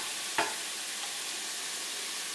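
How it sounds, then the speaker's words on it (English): Garlic dropped into a hot pan for turkey chili, a brief sharp hit followed by a steady, faint hiss of sizzling oil. "Here's my garlic going in."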